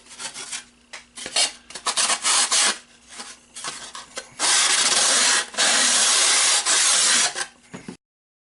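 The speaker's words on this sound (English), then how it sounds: "Remove the caps with a little sandpaper." Sandpaper rubs against small plastic model parts to remove caps, in short scratchy bursts and then longer continuous rasping strokes, close and alone.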